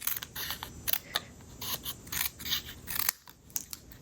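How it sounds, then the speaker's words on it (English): Scissors trimming paper at a stamping craft table, heard as quiet, close, irregular snips and rustles with no talking. "I'll just trim this with scissors."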